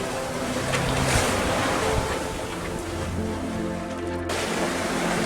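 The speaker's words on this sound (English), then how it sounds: "Okay, we're out to sea now." A sailboat under way at sea, with steady wind buffeting the microphone, waves washing against the hull and faint tonal hums from the boat throughout.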